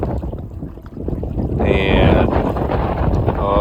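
Heavy 15-20 knot gusting wind buffets the microphone while a pedal kayak with an electric motor moves across open water, a loud steady roar with water wash; someone briefly speaks.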